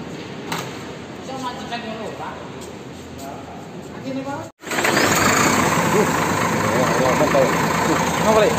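The engine of a Fafage SR3 Suites Class luxury bus idles with a low, steady drone. After a brief cut, it runs on much louder, and someone talks over it in the first half.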